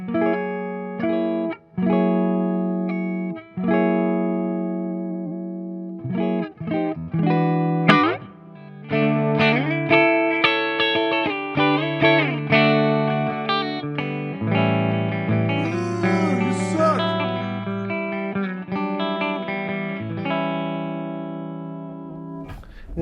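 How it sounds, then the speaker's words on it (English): Electric guitar played through an EVH 5150 50-watt EL34 amp with an Ocean's 11 reverb pedal: sustained, distorted chords and single notes ring out with reverb tails and short pauses between phrases. "It doesn't have built-in reverb, but I do have Ocean's 11 enabled on my board."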